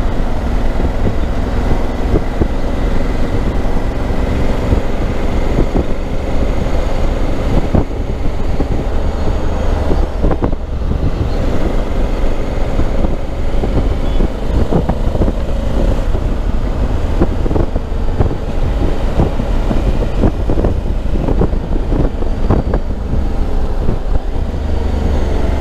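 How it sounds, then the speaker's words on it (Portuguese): A Honda Africa Twin Adventure Sports motorcycle fitted with a Zorro exhaust, heard while riding with a continuous deep engine drone under heavy wind rush on the microphone. "O escape Zorro é brutal, não é? Adoro, este som é qualquer coisa"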